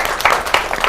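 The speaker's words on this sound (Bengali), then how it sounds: "হাততালি।" A short burst of hand clapping from an audience at a school quiz event, a few quick claps in under a second.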